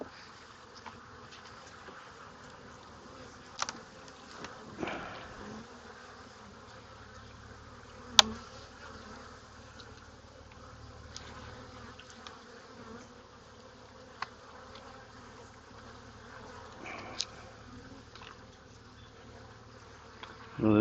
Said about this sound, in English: I think this one's got the most bees of any I've got into today.